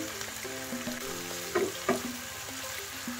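Soy sauce and Paombong vinegar hit a hot pan while chicken wings adobo cooks, giving a steady sizzle with two brief louder hisses as the liquids go in and a faint tonal hum beneath.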